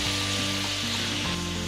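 Vegetables such as snake gourd, raw banana and white pumpkin sizzle in a pan on a low stove, a dense continuous frying hiss with a steady hum running beneath it.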